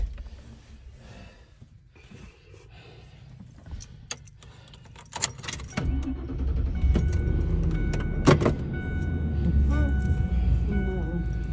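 A truck is entered on a neighborhood street, with keys jangling, a door opening and thudding shut, and cabin handling noises close by, while a person talks throughout.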